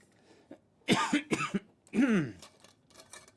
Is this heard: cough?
yes